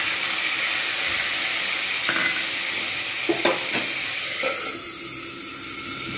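Onion frying in hot oil in a pan for a spiced pointed gourd curry, a steady loud sizzle with hissing steam and a few stirring clatters midway, then a slightly muffled sizzle.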